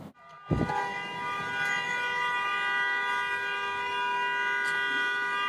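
A TTC bus horn at Kipling Station in Toronto blares after a short thump, holding one steady, loud, buzzing tone for several seconds over low idling rumble.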